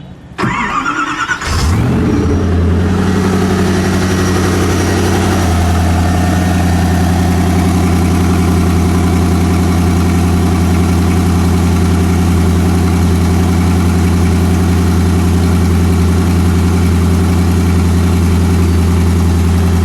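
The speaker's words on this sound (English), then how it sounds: "Car is coming alive. Koenigsegg ignition." A silver 2008 Koenigsegg CCX with a twin-supercharged V8 fires up with a brief cranking burst, then settles into a loud, steady, deep idle that drones on without a break, close by and with no voices.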